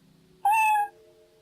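A domestic cat gives a single loud, clear meow that rises and then falls, close to the microphone, followed by a quieter sustained tone, with no talking.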